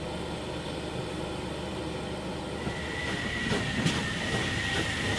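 The locomotive City of Truro rolls past at a railway festival in York with a steady rumble and rattling wheels, a thin metallic squeal rising as it goes by.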